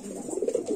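A pair of Lakkha pigeons for sale coo softly in a quick, low, murmuring run of throaty notes, faint and close, with no talking over them.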